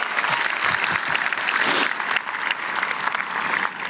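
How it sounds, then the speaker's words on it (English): The crowd at a 2024 high school graduation ceremony breaks into dense, sustained applause for the Air Force Junior ROTC, with a few scattered cheers rising in the middle. "Big round of applause for Air Force Junior ROTC."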